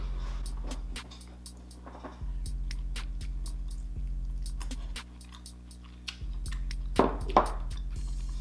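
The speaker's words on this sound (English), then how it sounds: "We ain't gonna talk about nothing until after I bite this lobster." Someone bites into and chews lobster with sauce at close range during a seafood meal. Soft wet chewing and crunching sit over a steady low hum, with louder bites near the end.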